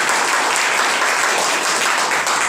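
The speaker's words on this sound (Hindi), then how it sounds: "अपनी बहनों के लिए जोरदार तालियां देना।" Loud, thick applause from a seminar audience rolls on steadily without a break, many hands clapping together at close range.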